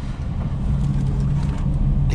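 Steady engine drone of a 2020 Toyota Wigo with automatic transmission at a little past half throttle, heard from inside the cabin as a continuous low rumble with road noise, close and fairly loud.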